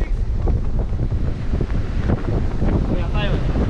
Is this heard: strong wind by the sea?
yes